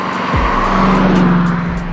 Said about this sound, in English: Elegant, stylish, powered by a lovely 3-liter V8 that sounded fantastic